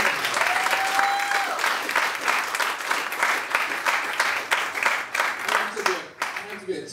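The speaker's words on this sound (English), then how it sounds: "Give a round of applause for everybody." A stand-up comedy audience in a tavern claps and cheers steadily throughout, a dense, continuous wash of applause that thins out near the end.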